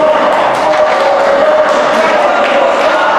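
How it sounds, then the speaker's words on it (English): Wrestling crowd at a live show keeps up a loud, steady roar that fills the arena, with voices swelling in waves and no clear break for the whole stretch. "that's crowd calling for it one more time"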